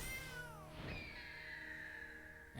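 A cartoonish cat meow sounds for a cat token in the MTG Arena digital card game, a single rising-then-falling cry with a bright sustained tail against game background music.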